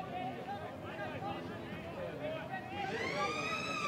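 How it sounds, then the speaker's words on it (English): A long siren sounds at quarter time of a Sydney AFL match between Sydney Uni and St George, rising clearly over steady crowd babble and commentary near the end. "Right on the siren too as we go into quarter time"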